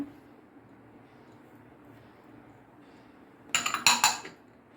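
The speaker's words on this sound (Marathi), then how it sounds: "आता ह्यामध्ये आपण हा चिरलेला कांदा घालूया. तसेच हे खोबरं घालूया." Chopped onion and coconut going into a bowl for pumpkin raita: after a quiet stretch, a quick cluster of bright metallic clinks and taps of a spoon against the bowl rings out near the end.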